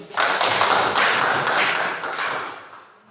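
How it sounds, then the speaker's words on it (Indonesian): Classroom applause for a student group: a dense burst of many hands clapping together, loud and steady for about three seconds before tapering off. "berikan aplaus kepada kelompok 1"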